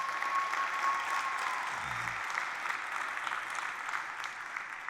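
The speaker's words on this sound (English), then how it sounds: "Let's give him another round of applause." Sustained applause from an audience at an MLK civil rights lecture, a steady, even wash of many hands clapping that holds at moderate volume for the full five seconds with no talking over it.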